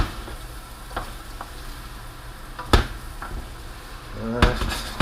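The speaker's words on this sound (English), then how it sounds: "Again, gently stir." Jambalaya stirred gently in a pot over a steady low sizzle, with a few soft spoon scrapes and clicks against the pot and a couple of sharper knocks near the end.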